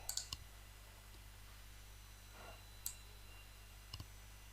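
A handful of sharp, quiet mouse clicks against steady background hum: a quick cluster of clicks at the start, one in the middle, and a double click near the end.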